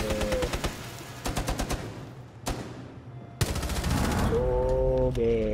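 Gunfire in Rainbow Six Siege comes in rapid automatic bursts and separate single shots, loud and close, with tonal game cues sounding between the volleys.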